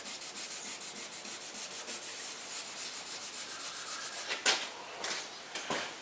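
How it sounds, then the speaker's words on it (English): A piece of teak rubbed back and forth against the wooden body of an ES 5V guitar build, a quiet rhythmic scrubbing of even strokes that ends in a few louder, scattered rubs. "I'll come back here with a little bit of teak just to rub that back out"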